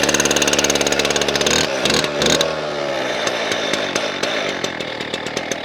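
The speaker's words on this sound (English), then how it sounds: "Should just be able to pull it and start it." A gas-powered cutting tool for cutting pipe, already warmed up, runs with a loud, close two-stroke engine roar that revs, drops briefly, then settles into a steady idle with pulsing harmonics, without any voices.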